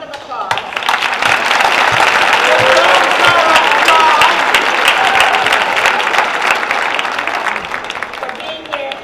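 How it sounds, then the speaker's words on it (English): Sustained applause from a crowd at an All-American presentation event, loud and even throughout, with scattered voices and cheers mixed into the dense clapping. "So let's give everybody a round of applause."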